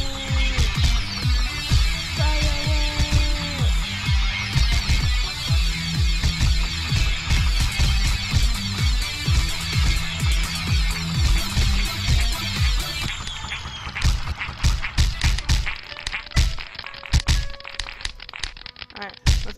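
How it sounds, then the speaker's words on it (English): Cartoonish poo-themed fireworks going off in a PC video game, a dense run of crackling bursts that turns to scattered sharp pops and bangs, with game music and speech underneath. "We unlocked the fireworks. Poo fireworks!"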